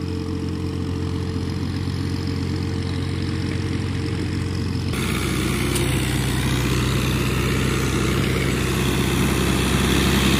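A small tractor engine runs steadily while leveling sand dunes, a loud continuous drone whose tone and load shift about halfway through.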